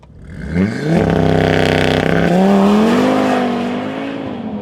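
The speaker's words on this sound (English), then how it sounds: "Bear in mind, it's my first time launching this car" An Audi TT RS five-cylinder sports car makes a launch-control start, revving hard, then surging forward with a loud rising engine note through the gears and a brief tire chirp as traction struggles.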